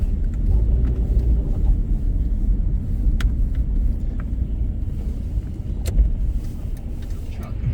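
A car driving on a highway in the New York metropolitan area, heard from inside as a steady, close engine and road rumble with wind buffeting and a few faint clicks, continuous throughout.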